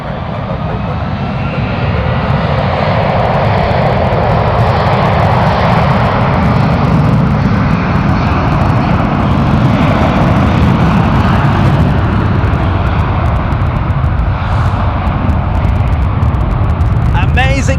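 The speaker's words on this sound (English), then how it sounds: "757 powering up." A United Boeing 757's jet engines spool up for takeoff on the runway, a loud, sustained roar rising quickly and holding steady at close range.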